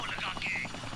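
A helicopter flies during a battle scene in the Hindi action film Hindustan Ki Kasam: a brief burst of rapid, rhythmic rotor chop, fairly loud, with voices mixed in.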